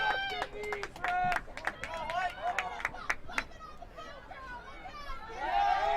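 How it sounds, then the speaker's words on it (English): Partisan Queens crowd at a women's college soccer semifinal reacts to a foul call with distant shouts, whistles and chatter, a busy murmur of voices rising and falling. "this heavily Queens-sided crowd not agreeing with the call"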